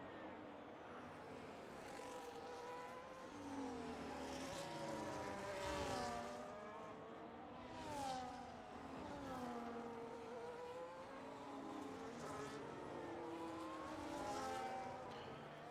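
Formula 1 race cars at Silverstone in a racing video game scream past the line, with layered engine whines sweeping up and down in pitch as several cars pass close by, one after another.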